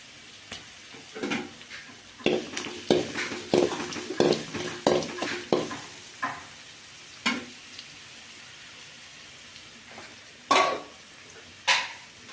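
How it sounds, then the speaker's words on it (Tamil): Chilli and garlic fry in a pan while a spoon stirs them. Sharp clinks and scrapes come in quick uneven bursts over a faint background sizzle, then thin out to occasional louder taps. "மிளகாய் கொஞ்சம் பூண்டு நல்லா ப்ரௌன் ஆகட்டும்"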